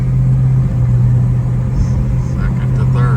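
A 1970 Chevrolet El Camino drives along while its engine drones loudly and steadily and shifts from first to second gear, with faint voices under the engine sound.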